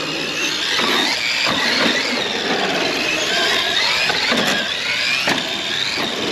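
Xmaxx Limited RC truck driving around with its electric motor whining steadily and loudly throughout, with tire squeals and brief scrabbling bursts as it corners on its suspension.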